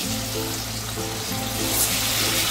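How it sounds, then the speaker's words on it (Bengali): Dhoka lentil cakes frying in hot oil over low to medium heat, giving a steady, close, moderately loud sizzle with a constant broadband hiss and a low hum underneath, without any talking. "তেলটা গরম হয়ে গেছে, এবার আমি একে একে ধোকাগুলোকে দিয়ে দেবো"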